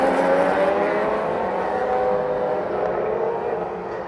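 Radical race cars on a motorsport circuit at Sydney Motorsport Park, weaving on a slow lap to warm their tyres; a steady engine drone holds for several seconds, moderately near and continuous.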